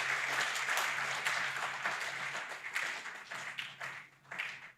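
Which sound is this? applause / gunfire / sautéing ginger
applause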